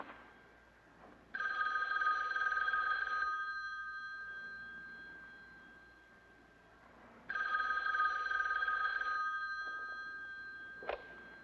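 An old-style telephone bell rings in two long bursts separated by a pause, fairly loud and close in a quiet room, with a brief click near the end.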